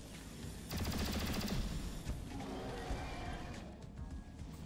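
A loud, rapid burst of automatic gunfire in XCOM: Chimera Squad, aimed at a Berserker, followed by continuing combat noise. Speech runs over the shooting.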